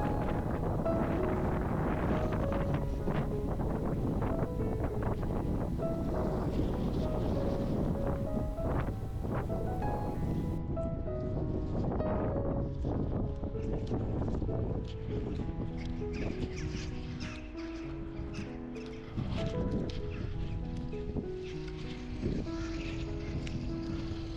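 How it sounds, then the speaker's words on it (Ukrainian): Strong blizzard wind buffets the microphone in loud, continuous gusts on a street in Truskavets, with faint voices and rumble underneath. "Чуєте, друзі, який вітер."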